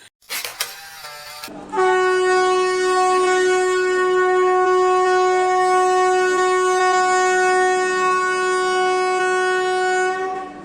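A new 16-coach pilgrim passenger train from Ferozepur sounds a long, loud, sustained horn after a brief clattering start, the tone holding steady for several seconds.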